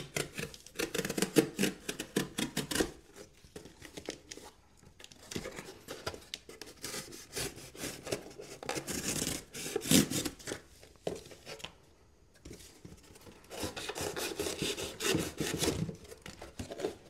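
A sturdy budget folding knife with a thick flat grind slicing and sawing through cardboard, giving close, continuous scraping and rasping cuts in uneven bursts with short pauses.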